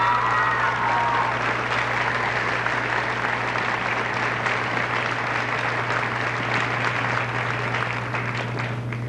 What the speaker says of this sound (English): I think Miss Filoni deserves a big round of applause.